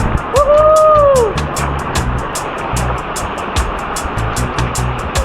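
Naalon Falls roars up close, a loud, continuous wash of rushing water that fills the whole clip, with a brief sliding whistle-like tone early on and faint ticking in the background.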